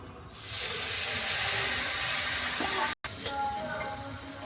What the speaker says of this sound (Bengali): বন্ধুরা কষানোর জন্য আমি একটু সামান্য জল দিয়ে নেব।